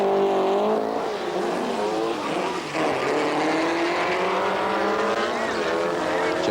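Drag racing cars launch at Bug Jam with a loud, sustained engine roar and rising, sweeping pitch, steady and close throughout with no pause.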